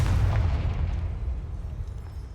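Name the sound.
Confringo spell explosion in a Hogwarts video game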